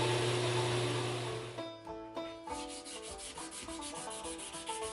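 Sanding a G10 knife handle scale for an EDC knife, contouring it thinner toward the base, with steady abrasive rubbing and a brief pause partway before it resumes close and fairly loud, no talk.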